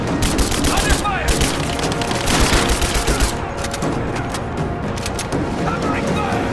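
Dense gunfire from the video game Rise of the Tomb Raider rattles in loud, rapid overlapping bursts with booming impacts throughout, and soldiers shout in the middle of the fight.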